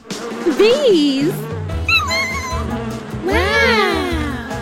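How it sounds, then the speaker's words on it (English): Bees buzz in a lively, wavering hum that rises and falls in pitch, with voices chattering over it in bursts. "Bees."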